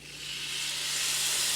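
Salmon fillets laid meat side down in a hot pan sizzle and hiss loudly and steadily, the sound rising slightly as they settle in and then holding as a continuous close-up spitter.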